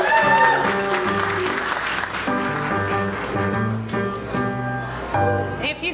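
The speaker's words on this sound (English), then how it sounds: "please give a round of applause for our very own Miss Ophelia Bottom" Audience applause at a holiday drag cabaret show, sustained clapping filling the room as a performer is introduced, with music or voices mixing in underneath.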